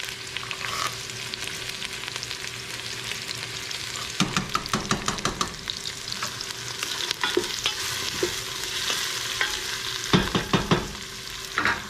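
Onion sizzling in hot oil in a pan while pasta with mussels and shrimp is being made, a steady close frying hiss broken by repeated stirring scrapes and clacks, with no talking.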